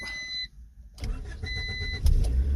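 Warning chimes beep, then an engine cranks and catches, rumbling up to a rough idle close by.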